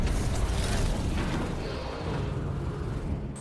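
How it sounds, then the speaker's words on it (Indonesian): A sustained, loud explosion rumble from the film Hold Your Breath, with dense low-end roar and debris-like noise filling the whole stretch. "ledakan tersebut membuat tabung oksigen milik Matthew rusak"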